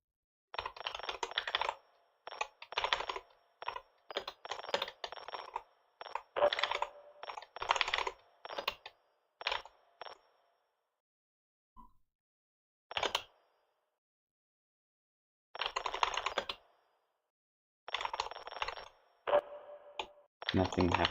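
Computer keyboard keys being pressed in bursts of rapid clicky typing separated by pauses, close and crisp, with brief gaps of near silence between runs.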